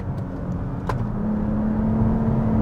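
A Toyota Camry TRD V6 sedan accelerates, its engine note building steadily from inside the cabin and growing louder over a few seconds, without any talk.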